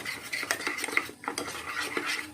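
A spoon stirs a curd, turmeric and honey face pack in a small bowl, making steady soft scraping and light clinks against the bowl, close up and with no talking.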